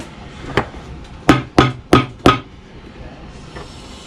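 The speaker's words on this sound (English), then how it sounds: "we're using 5/8 inch gripper nails like that right there, and they're just going to go into the holes here" Four sharp hammer strikes drive 5/8 inch gripper nails into holes in a boot sole, following a lighter tap, close and loud with short even gaps, then quiet workshop air.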